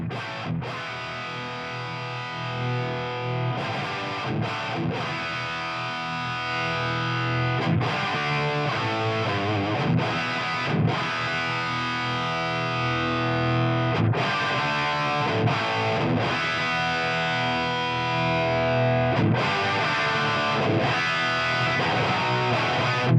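A Marshall Vintage Modern guitar amp in breakup tone with the master near 5, giving a sustained, driven electric guitar passage of chords and notes at steady loudness.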